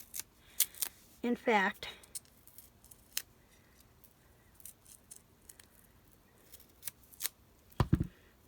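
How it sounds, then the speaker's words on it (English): Scissors snip through paper in a run of quick, crisp cuts at close range, followed by occasional scattered clicks and handling sounds, with a brief spoken phrase over the first cuts. "And then I'm just going to snip this one."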